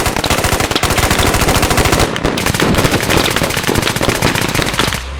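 Rapid automatic gunfire bursts in the video game Squad rattle continuously at close range, with a brief pause near the middle before the shooting resumes, then cuts off.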